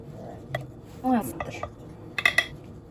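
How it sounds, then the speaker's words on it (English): Lasagna noodles being cut in a pan, with a few scattered metallic clinks and scrapes of a utensil against the pan, close and fairly quiet, and brief talk between them. "These noodles I'm going to cut because I don't want too much noodles over the edge."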